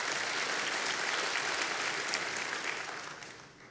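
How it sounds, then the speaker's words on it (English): An audience at a church talk on Israel and the end times claps steadily, a dense, fairly distant round of applause that fades away toward the end. "that's worth clapping for"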